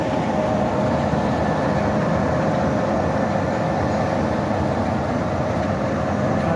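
Class 46 diesel locomotive 46045 with its Sulzer engine, backed onto its train at Alton on the Mid Hants Railway, gives a steady loud rumbling drone, constant and nearby with no talk.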